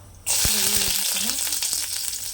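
Garlic tipped into hot oil bursts into a loud, steady sizzle that starts abruptly and holds, with faint clinks and stirring scrapes underneath.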